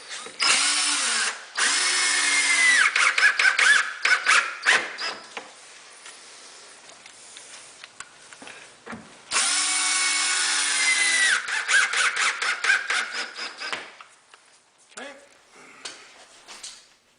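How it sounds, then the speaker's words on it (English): A power drill drives screws into a wall-mounted kitchen cabinet close to a hinge hole, in two long whirring bursts followed by short stuttering pulses as each screw seats, loud and close. "we're screwing very close to our hole where our hinge is going to go"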